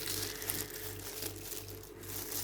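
Continuous crinkly snipping of scissors working through cheesecloth, close up, over a constant low hum.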